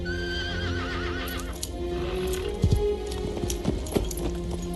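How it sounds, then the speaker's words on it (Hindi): A horse whinnies with a wavering call in a Bollywood film scene, followed by a few sharp, close hoof thuds and clatter over a sustained background score. "एक सीन में वो घोड़े से कूदता है अभिषेक बच्चन नीचे, और वो कूदा नहीं अभी तक, वो नीचे उतरा नहीं, घोड़ा पीछे फट से निकल लेता है"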